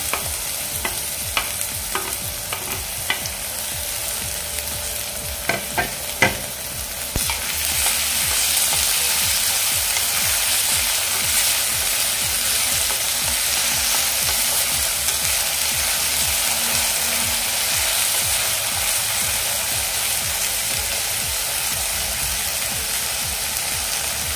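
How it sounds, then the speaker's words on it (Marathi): Tomatoes dropped into a pan of fried onions: a few clinks and stirring knocks, then a sudden loud, steady sizzle that keeps hissing evenly for the rest of the time, close by and without voices. "आता यामध्ये मी टोमॅटो घालून घेते"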